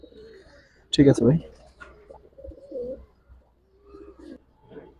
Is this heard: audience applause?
no